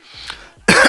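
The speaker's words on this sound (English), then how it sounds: "I had to clear my throat there." A single person clears their throat in two bursts, a soft rasp followed by a louder, harsher hack, close to the microphone in a quiet room.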